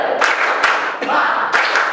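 A classroom group performs a rhythmic spirit clap, bursts of claps in a patterned beat.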